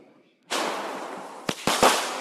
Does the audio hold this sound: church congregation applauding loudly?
no